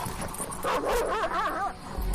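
Wild dogs in a forest give a short run of yips and whining barks at middle distance, heard alone over a steady background hum.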